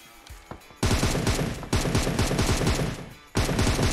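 Loud automatic gunfire from the PUBG Mobile video game, with dense rapid bursts that begin after a quiet second, pause briefly, then resume at full volume.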